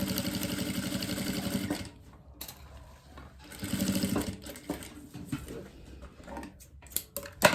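A sewing machine runs close by, topstitching a lining seam for a basic zippered pouch with a longer stitch setting, in fast rhythmic bursts broken by pauses and clicks of handling.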